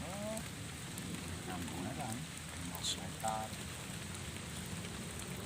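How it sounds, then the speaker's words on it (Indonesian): Rain falling steadily on an oil palm plantation, a continuous soft patter heard while sheltering under a palm tree, with faint voices murmuring in the background. "Berteduh di pohon sawit. Hujan-hujan."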